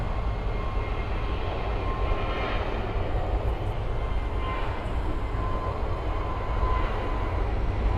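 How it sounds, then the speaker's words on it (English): An Air France Boeing 777-300 airliner taxiing fast at Miami airport, a steady broadband jet-engine roar that holds evenly throughout, fairly loud with a faint whine on top and no voices. "we see Air France 777-300. Taxiing pretty fast"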